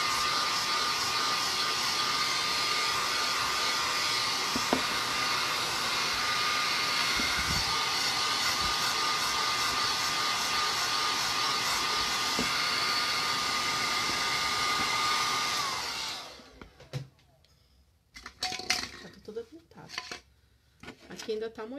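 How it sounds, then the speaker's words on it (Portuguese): A hair dryer on its cool setting blows steadily over paper stuck with white glue, a loud continuous whir for about sixteen seconds that cuts off into quiet handling noises and light knocks. "Eu vou dar secada com secador frio."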